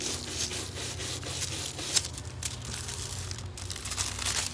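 A small stencil scrubber brushes paint onto an ornament through a stencil, making soft, steady scratchy rubbing strokes close to the microphone, with a few slightly sharper scuffs.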